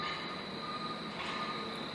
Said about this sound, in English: They're working on the railroad.